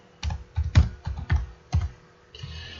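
Short bursts of typing on a computer keyboard, several quick keystroke clusters close by with brief pauses, ending in a faint hiss.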